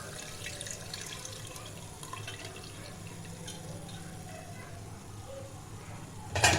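Meat broth poured into a cooking pot of oil and turnips, a steady liquid splashing and pouring sound running throughout at moderate level, ending with a brief louder clatter.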